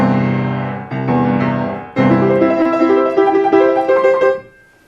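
Piano chords voiced in Beethoven's style ring out loud and full: a couple of sustained low chords, then a rising run of notes that fades to silence, with no talking.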